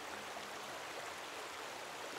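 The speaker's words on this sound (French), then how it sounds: "Au loin, vous percevez le bruit de l'eau qui coule, le doux murmure d'un ruisseau." A forest stream flows steadily, a soft, even broadband rush of water heard faintly and continuously with no other sounds.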